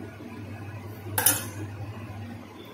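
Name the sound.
stirring mango pulp into semolina and milk in pot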